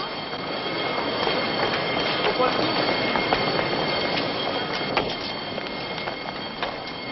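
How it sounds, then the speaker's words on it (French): Crowded rush-hour commuter train in Paris, 1971, a loud steady rumble of rolling railcars with squealing wheels and scattered rattles and clicks throughout. "les trains bondés aux heures de pointe"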